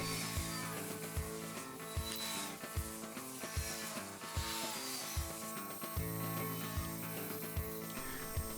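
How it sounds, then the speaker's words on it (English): Wooden parts for a sliding door bookshelf being cut, with steady rasping strokes repeating about once a second over a constant whirring background hum; no talk. "Here I'm cutting up the parts that will attach to the wheel and then attach to the door."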